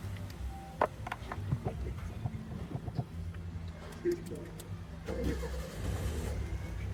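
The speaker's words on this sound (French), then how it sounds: "Le véhicule démarre, vous voyez comment on accélère." A car engine starts on its original key and then revs. A short crank catches into a low idle and rises in a few throttle blips, fairly close, while someone talks over it.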